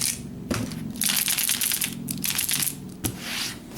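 Quick bursts of light clicking and rattling come from a MoYu magnetic Pyraminx puzzle being turned, with the magnets snapping into place close by in brief clusters separated by short pauses.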